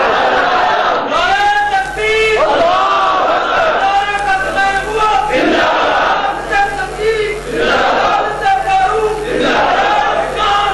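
A crowd at a religious gathering chants slogans in loud, rhythmic waves that swell and fade across the stretch, with voices layered densely throughout.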